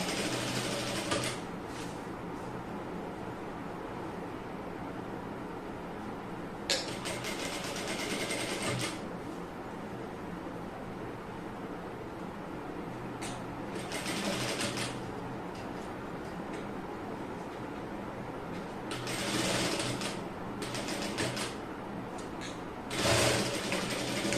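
A sewing machine stitches a neckline with a cross piece, its quiet mechanical rattle running steadily and rising into several brief louder bursts of fast stitching, with pauses between them.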